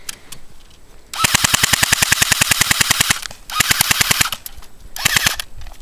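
An ICS L86 A2 airsoft rifle fires close by on full auto in three bursts: a long rapid string of sharp, evenly spaced cracks, a shorter burst, then a brief final one, with quiet gaps between.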